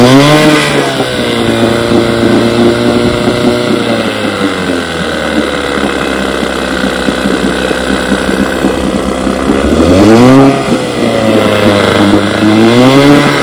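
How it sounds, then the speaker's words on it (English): A 1965 Johnson 6 HP outboard motor runs steadily after a carburetor repair, its engine note droning loud and close with a throbbing pulse, dipping briefly then rising again near the end. "I got Ralph's carburetor on my 6-horsepower."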